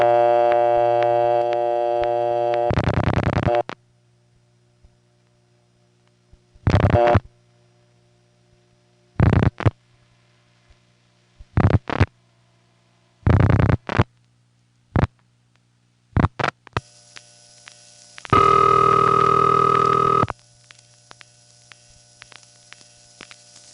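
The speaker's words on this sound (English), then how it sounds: "after I dial the last digit, there's a pause and a few extra ticks as the special Hunt Group connector hunts for an available phone" An old Bell step-by-step telephone exchange in Raleigh works through a call, with bursts of mechanical switching clicks and ticks separated by pauses over a faint steady hum, as the Hunt Group connector hunts for a free line.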